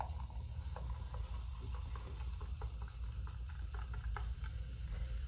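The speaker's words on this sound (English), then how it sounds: "Now, I'm just gonna pour myself a nice glass of Sprite Cranberry." Sprite Cranberry soda poured into a glass, a steady close crackling fizz of bubbles with small pops running throughout, no voices.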